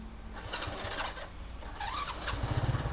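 A restored 1991 Honda Grand motorcycle's electric starter whirs and cranks, then the engine catches and settles into a close, steady putter.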